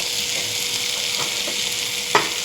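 Vegetables sizzle in a hot tempering of chilli powder and crushed peanuts while being stirred, giving a steady frying hiss broken by soft scraping and a brief sharp clink near the end, with no talking.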